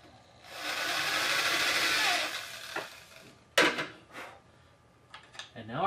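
A drill bores into wood with a 3/8 inch countersink bit for a crossbow pin, a loud close whirring grind for about two seconds, followed by scattered knocks and scraping handling noises.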